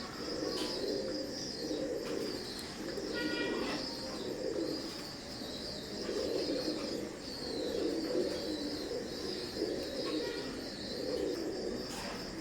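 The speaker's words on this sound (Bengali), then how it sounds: "তো ভিউয়ার্স, স্ক্রিনে এখন যে কবুতর জোড়া দেখতে পাচ্ছেন, এটা 6-7 ফেদারের এক জোড়া নিউ অ্যাডাল কবুতর" A pair of imported Teddy pigeons coos in steady, repeating low rounded phrases, close by and fairly quiet, with a few faint chirps and wing flutters.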